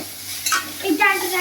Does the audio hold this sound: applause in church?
no